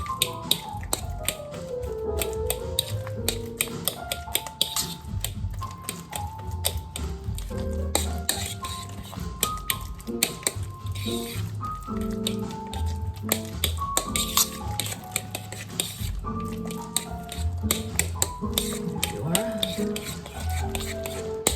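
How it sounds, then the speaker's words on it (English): A fork crushing very soft banana into butter in a bowl for banana bread, with repeated close taps and clinks of metal on the bowl and soft squishing mixing strokes, with some talk over it. "Crush the very soft banana with the fork, mix it in with the butter."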